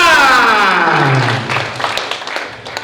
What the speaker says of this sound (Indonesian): Memirsa. Tepuk tangan.